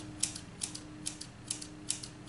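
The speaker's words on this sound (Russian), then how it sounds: "слегка филируем вот таким способом" Scissors snip hair vertically to thin it during a self-haircut, quiet crisp cuts repeating roughly every half second, close by and alone.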